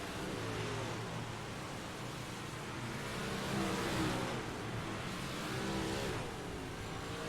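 Race cars at an American All Star BBM warm-up session at Lanier rumble around the track. Their engines drone steadily from a distance and swell slightly as the cars pass, quiet and with no talking.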